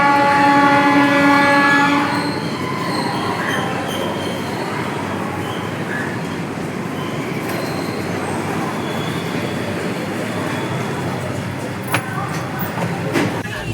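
A passenger train on the way to Kolhapur rolls along steadily, a continuous rumble and rattle heard from inside the carriage, with a brief tonal squeal at the start and occasional clanks.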